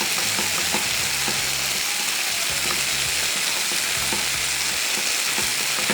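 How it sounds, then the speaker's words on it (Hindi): Flour cooking in melted butter in a pan gives a steady, close sizzle that runs the whole time, with recurring low scraping thuds as the roux is stirred. No one speaks. "ये जैसे ही मेल्ट होगा इस मैदे को हम थोड़ा सा इसमें पकाएंगे"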